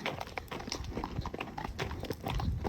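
A horse on a quiet hack walks along, its hooves clip-clopping in a steady, even rhythm close by, with faint background noise and no talking.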